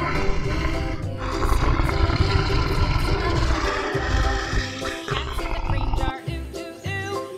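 A toy orange lion brings loud, rough lion roars and growls, sounding continuously and close for several seconds, with no speech over them.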